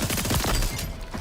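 Rapid SMG gunfire in a shooter video game: a dense, loud burst of quick cracking shots packed close together across about a second.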